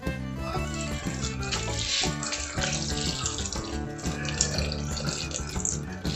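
Water poured into a bowl of grated cassava dough to wash it, a steady continuous splashing gush that runs the whole time over a bed of tonal background sound.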